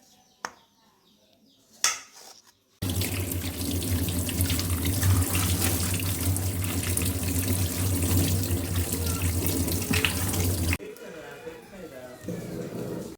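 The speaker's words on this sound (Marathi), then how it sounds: "तर आंबे पहिल्यांदा आपण धुवून घेऊया" Mangoes being washed under a running tap at a sink, with water gushing and splashing steadily for several seconds in the middle before stopping, bracketed by brief handling noises and a voice speaking.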